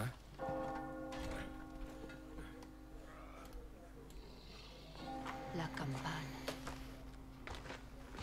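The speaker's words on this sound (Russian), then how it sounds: "Колокол?" Church bell tolling inside the video game Resident Evil 4, steady sustained ringing tones with a lingering hum, heard alongside game ambience and footsteps, with people talking at points.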